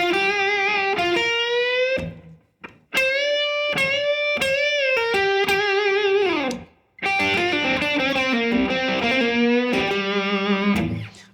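A distorted electric guitar plays a blues lick in third-position minor pentatonic, with sustained bent notes and short stabbing phrases separated by brief pauses, loud and up front with no talking.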